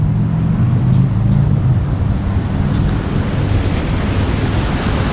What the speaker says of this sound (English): This is the Neenah Water Power Canal.